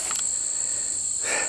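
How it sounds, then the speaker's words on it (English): Insects buzz and trill outdoors, bees among them, in a steady high-pitched drone that stays constant and fairly loud throughout, with no talking. "I got every insect in the world, including bees, right here."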